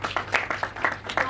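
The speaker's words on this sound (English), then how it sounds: "Can we give one more round of applause?" Audience clapping at a luncheon, a short burst of separate claps in an uneven rhythm, moderately close, with faint voices underneath.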